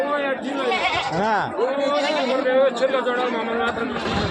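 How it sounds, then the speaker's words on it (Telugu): Boer and Boer-cross goats bleat repeatedly with wavering, nasal cries at a busy goat market in Gudur, close and loud over a constant background of crowd chatter and talking. "బోయర్ మేకలు ఫామ్లో నుంచి వచ్చినవి బోయర్ మిక్సింగ్ అన్నీ మిక్సెడ్ ఉన్నాయి"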